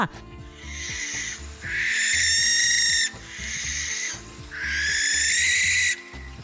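A barn owl gives several long, harsh, hissing screeches in turn, loud and close, while a voice talks quietly over a low musical background.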